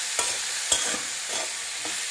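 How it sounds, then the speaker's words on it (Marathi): Raw jackfruit pieces sautéed in a hot spice tempering, a steady sizzle broken by a few scraping stirs of the spoon at irregular intervals, close and clear with no talking. "आता हे छान फोडणीमध्ये परतून घ्यायचे"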